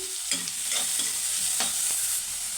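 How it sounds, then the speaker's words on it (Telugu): Onion pieces fry in a pan for a Telugu evening snack, a steady bright sizzle running throughout, broken by a few soft stirring scrapes, close and fairly loud with no voices. "ఉల్లిపాయ ముక్కలు లైట్గా వేయితే సరిపోతుందండి కొంచెం లైట్గా మరి బాగా ఎక్కువగా వేగాల్సిన అవసరం లేదు"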